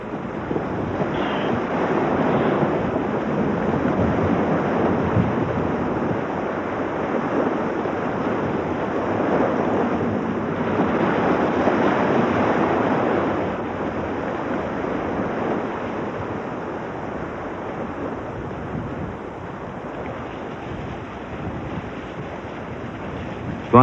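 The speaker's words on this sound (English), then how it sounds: "But the buffeting waves of Somarari are too strong" Stormy waves churn on Tso Moriri, a high-altitude lake in Ladakh, in a continuous roaring wash with gusting wind buffeting the microphone, loud and close, easing slightly toward the end.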